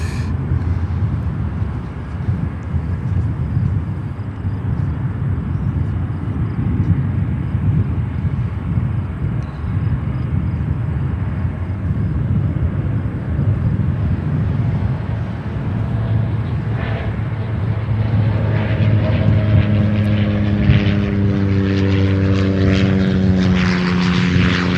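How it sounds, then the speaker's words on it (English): A Cessna 208B Grand Caravan turboprop at O'Hare drones loudly and steadily with a low propeller hum, and a rising whine builds near the end as the engine spools up. No one speaks. "let's get a Cessna 208B Grand Caravan"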